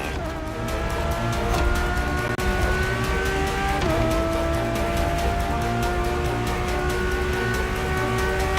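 A Ferrari Enzo engine roars steadily in a racing video game, its rising harmonic whine climbing and resetting through gear shifts, loud and continuous with faint tire noise beneath.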